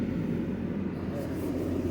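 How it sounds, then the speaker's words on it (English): Distant aeroplane drone rumbling steadily overhead, a continuous low broadband roar with no clear start or end. "This is the aeroplane I am looking for."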